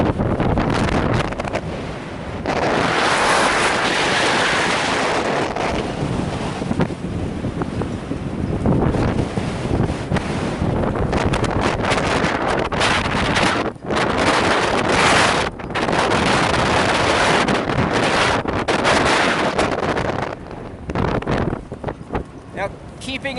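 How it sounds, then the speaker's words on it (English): Strong wind gusts roar and buffet the microphone almost without pause in a sheltered cove beside the open sea off Grand Manan Island. Some speech may sit under the loud rushing noise. "I'll show you how breezy it is."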